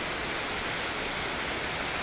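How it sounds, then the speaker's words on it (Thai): Water pours over a small overflow weir in rural northeastern Thailand after rain, a loud, steady, unbroken rush filling the whole clip with no voices. "ฟังเสียงน้ำโตนน้ำไหลครับ"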